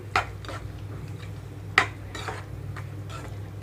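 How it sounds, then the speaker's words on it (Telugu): Utensil clatter as okra curry is spooned from a pan into a serving bowl: three sharp metal clinks spaced apart, with softer scraping and stirring sounds between them over a low background hum. "సర్వింగ్ బౌల్లోకి తీసుకుంటున్నాను"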